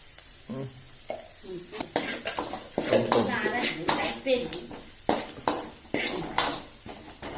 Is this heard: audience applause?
no